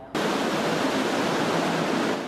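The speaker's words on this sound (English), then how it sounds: "Waves roll in one by one on a picture-perfect day in Pismo Beach." Ocean surf rolls in at Pismo Beach during a professional surfing competition, a loud, steady roar of breaking water that starts abruptly and holds evenly, with no voices.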